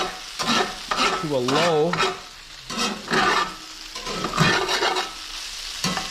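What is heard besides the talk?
trout and vegetables frying in a pan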